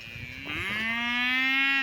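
A bull on a small farm gives a loud, close moo that rises into one long drawn-out bellow, with no talk over it.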